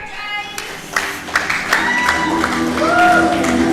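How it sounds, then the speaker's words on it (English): Crowd applause and scattered clapping greet a grappler walking out onto the mats at a Grappling Mania event, a steady wash of claps and cheers that builds over a few seconds, close and fairly loud. "Give it up for Jay Wadwell"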